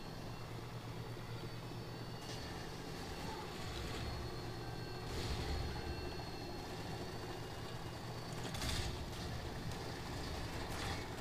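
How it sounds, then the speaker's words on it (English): A large helicopter in the video game Modern Warfare 2 thunders through a steady, dense rotor and engine roar that swells in gusts, with no talk over it. "That's a huge helicopter."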